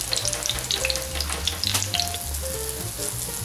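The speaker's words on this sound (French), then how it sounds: "les légumes sont en train de cuire" Vegetables frying in oil in a pan, sizzling and crackling densely and continuously up close, with no voices.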